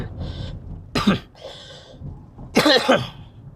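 Several harsh, raspy coughs come in short bursts, close by, with a breathy throat-clearing sound between them and no speech.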